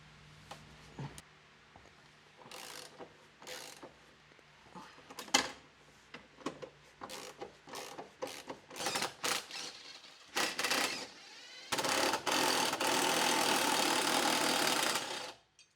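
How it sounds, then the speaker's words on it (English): Ratchet working on the 17 mm trailing arm bolts of a Subaru Forester, rapid clicking bursts separated by short pauses, then a long sustained run of ratcheting, close and fairly loud. "Next, I'm going to remove the 3 bolts that hold the trailing arm in place."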